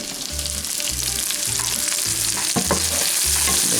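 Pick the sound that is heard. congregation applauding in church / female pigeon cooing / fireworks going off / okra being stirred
okra being stirred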